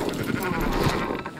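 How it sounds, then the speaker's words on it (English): A sheep in the Western open-world game Red Dead Redemption 2 lets out one loud, close, wavering bleat that fills the whole short moment, with no talk over it. "Fine sheep."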